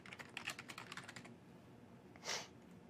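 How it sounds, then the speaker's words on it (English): Typing on a computer keyboard to enter login credentials, a quick burst of close, crisp key clicks for about a second, then a pause and one louder final keystroke, with no talk. "Type in my credentials"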